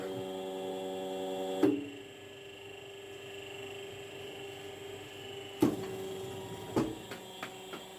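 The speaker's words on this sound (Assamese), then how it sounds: "হাইড্ৰলিক মেচিন বুলি কোৱা হয়" A hydraulic paper plate making machine runs with a steady electrical hum and whine, broken by a few sharp mechanical clunks as it presses, with no talk over it.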